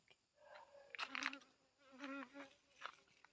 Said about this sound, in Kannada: ಜೇನುಹುಳುಗಳು ಹೆಂಗೆ ಅಟ್ರಾಕ್ಷನ್